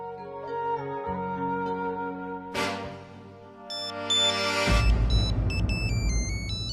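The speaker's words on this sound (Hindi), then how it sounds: "किसका फोन है अभी?" A melodic electronic ringtone chimes in a repeating pattern, rising into a brighter, louder jingle near the end over low background noise.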